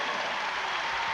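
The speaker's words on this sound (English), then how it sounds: "Every time a basket is made by Jamelle, hear her name, hear the crowd go crazy" A women's college basketball arena crowd, UConn against Villanova, bursts into loud, continuous applause and cheering after a made basket, a dense steady roar with no voices standing out.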